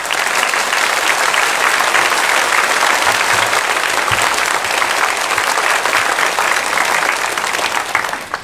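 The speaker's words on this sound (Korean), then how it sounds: "우리 목사님 나오실 때 큰 박수로 환영해 주시기를 바랍니다" A church congregation applauds at a Sunday worship service to welcome the pastor, a dense and steady sustained clapping that stays loud and even throughout, with no talking over it.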